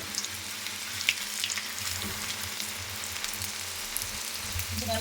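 Okra pieces deep-frying in hot oil for crispy ladies finger kurkure, a dense steady crackling sizzle heard close and alone, even throughout.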